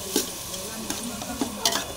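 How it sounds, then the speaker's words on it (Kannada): Village-style mutton sambar with tomato and coriander is stirred in a pot, a spoon scraping in several quick bursts over a quiet, steady simmering sizzle, close up with no talking. "ಆಮೇಲೆ ಹಂಗೆ ಸ್ವಲ್ಪ ಚೆನ್ನಾಗಿ ಮಿಕ್ಸ್ ಮಾಡ್ಕೋಬೇಕು"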